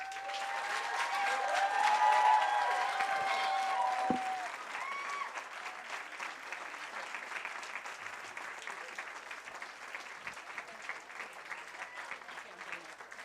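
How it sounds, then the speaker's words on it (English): Audience applause at a wedding reception after a comedic speech: a broad, steady wash of many hands clapping, mixed with a brief sustained shout or tone early on, continuing evenly for several seconds. "Let's give him another round of applause."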